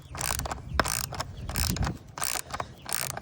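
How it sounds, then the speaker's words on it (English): A hand ratchet tightening bolts on the bunk boards of a boat trailer, giving repeated quick clicking strokes close by in several short bursts. "so I'm just going to use a ratchet, which is fine"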